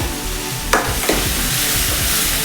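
Turmeric powder being stirred into cooked tomato in a hot pan: a steady close sizzle with a couple of sharp spoon scrapes against the metal.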